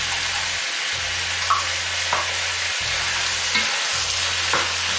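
Carrots, sweet paprika and tomato paste frying in a pan, a continuous close sizzle broken by a few soft scrapes and knocks of stirring, with a low hum beneath that cuts out briefly at intervals.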